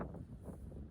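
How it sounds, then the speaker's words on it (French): Wind gusts at a campsite in Brittany, a faint, low rumbling buffet over about a second, rising and falling slightly with no speech. "il y a trop de vent"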